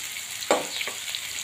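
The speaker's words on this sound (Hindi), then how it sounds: "प्याज को अच्छे से पकाना है हमें।" Onions for a Hyderabadi khatti dal tadka fry in a pan with a soft continuous sizzle, broken by one brief spoon scrape and a couple of lighter stirs, close and quiet.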